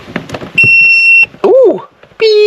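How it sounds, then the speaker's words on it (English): An XTOOL A30M car scan tool beeps: a sustained high tone, then a warbling chirp, then another long beep, with faint rustling before the first tone. "Ooh, beep! Do you hear that?"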